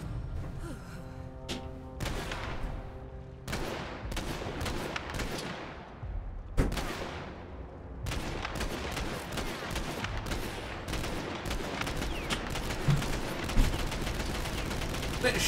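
Gunfire in Borderlands 3 aimed at the player: a string of sharp, loud shots and bursts that ring out and decay, spaced irregularly across the stretch with dense game action between them.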